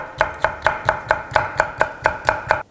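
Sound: knife cutting paprika into thin strips

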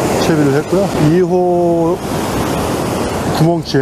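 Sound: ocean waves at a fishing spot

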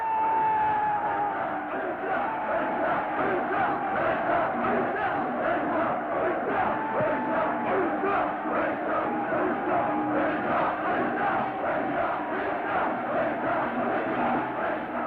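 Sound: crowd shouting battle cry at Chajeon Nori game

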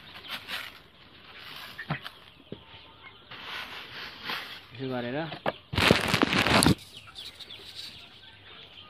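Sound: chickens clucking at feed

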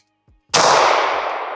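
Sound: gunshots from pistol fitted with ADE red dot

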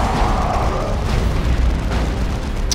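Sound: hostile vehicle burning and exploding in Dawn of War 2 video game

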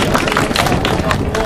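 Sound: audience clapping

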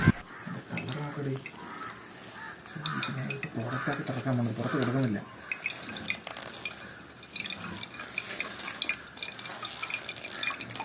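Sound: oil dripping from squeezed crispy herbal hair oil paste

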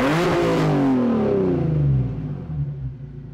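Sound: Nissan 370Z drift car VQ engine revving

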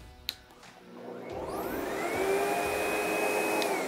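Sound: SEBO Automatic X8 vacuum cleaner motor soft start

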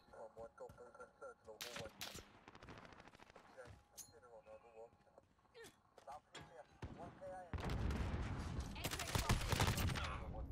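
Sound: gunfire in video game Modern Warfare

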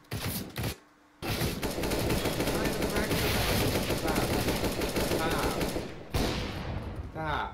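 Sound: gunfire in Counter-Strike: Global Offensive video game

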